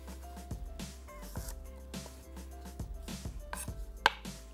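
Two medium onions being thinly sliced with a knife for frying in ghee, giving a series of crisp chopping taps on a board at a steady, irregular pace, close and moderately loud, with some kitchen clatter.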